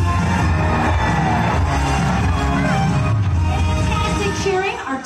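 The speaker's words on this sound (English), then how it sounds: "Fantastic cheering" Audience at an animal actors show cheering and applauding, a loud, continuous crowd roar with whoops that holds steady and tails off slightly at the end.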